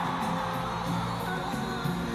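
Large concert audience at a show in Kuala Lumpur, a dense continuous roar of cheering and whooping that stays loud and steady throughout, with music faintly underneath.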